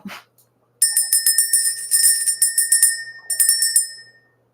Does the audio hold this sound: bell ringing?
yes